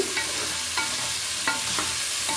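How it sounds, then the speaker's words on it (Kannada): Ground masala paste frying in oil without water for a peas and potato sagu, with a steady sizzle and rhythmic stirring scrapes roughly every half second, close and even. "ನೀರು ಹಾಕ್ದೇ ಚೆನ್ನಾಗಿ ಈ ರೀತಿ ಹುರ್ಕೊಳ್ಬೇಕು"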